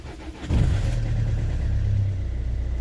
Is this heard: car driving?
yes